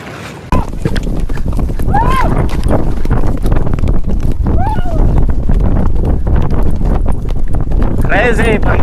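Horses galloping in a horse race in Karnataka, a continuous rumble of hoofbeats under loud, excited talk, with a couple of neighs or whinnies rising above the noise.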